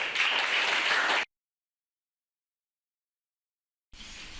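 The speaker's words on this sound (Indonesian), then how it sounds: "tepuk tangan untuk kita semua" A group claps together at an academic coaching session, a burst of brisk applause that stops abruptly. After a long silence, softer clapping resumes briefly.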